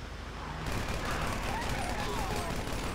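Gunfire in Grand Theft Auto V, with enemies shooting at the player character from behind, a dense rattle of rapid shots that thickens after the first moment and keeps going under faint background game noise.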